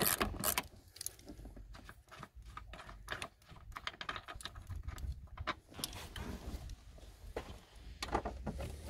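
Ratchet fitted with a 13 mm socket backs out the screws holding the rear bench seat of a Renault Twingo 1, giving a quick run of close clicking and rattling strokes over about nine seconds with no talk.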